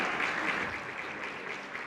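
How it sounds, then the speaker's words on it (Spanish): Applause from an audience at a human rights event in Colombia, a dense, steady clapping that holds moderately loud for about two seconds and ends in a sharp close thump. "quiero agradecer y pedir un aplauso a Margarita Posada, Cristian Cabrera y Mauri"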